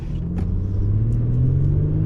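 An Infiniti G37 accelerates on a road with paddle-shift upshifts around 3,000–4,000 RPM, its engine a steady, loud near drone whose pitch climbs gradually through the whole stretch.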